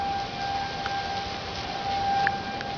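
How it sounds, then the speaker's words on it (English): Tornado warning sirens wailing during a storm in southeast Dallas County, a steady sustained tone heard from a distance over broad outdoor noise. "The sirens are going off."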